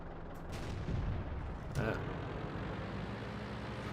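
A tank gun fires in World of Tanks, a Panzer Sfl V or Jagdtiger round, giving a booming blast followed by a second sharp report and low rumbling battle noise, with commentary voice underneath.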